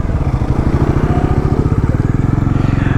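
A 2024 Bajaj Pulsar NS400Z 400cc motorcycle engine revs loud and close with a rapid, throbbing exhaust pulse that rises and falls slightly over three seconds.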